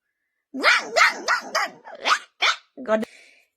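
A person imitates a dog, voicing a rapid series of about seven loud, yappy barks close up with growl-like edges, ending in a drawn-out whine.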